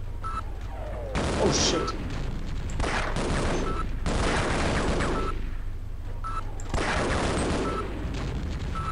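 A vehicle-mounted gun in Half-Life fires in several loud, booming bursts with gaps between them, and a player exclaims over the gunfire.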